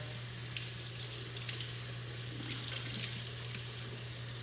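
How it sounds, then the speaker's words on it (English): Running tap water pours steadily over cucumbers being rinsed for homemade pickles, a continuous close, even splashing hiss with a low hum underneath, no voices. "I'm just going to rinse them under the running water."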